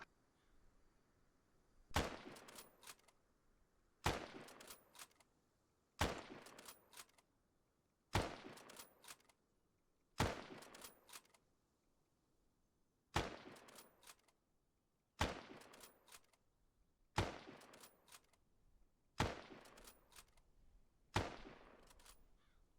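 A Lee Enfield No. 1 Mark III bolt-action rifle fires in Arma 3, ten sharp single shots at roughly two-second intervals, each crack trailing off in a short echo, with quiet gaps between.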